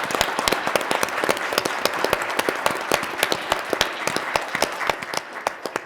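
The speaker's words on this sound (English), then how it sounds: "Can we get a round of applause for our innovators?" Clapping at a water conference plenary session for the innovators, crisp, closely spaced claps sounding fairly near and loud, thinning slightly toward the end.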